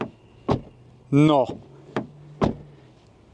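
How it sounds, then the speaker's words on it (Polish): Doors of a 2024 MG HS 1.5 T-GDI SUV open and shut in several short, sharp thuds spread across a few seconds, with a brief voice in the middle and quiet room tone between. "I dźwięk otwierania i zamykania drzwi."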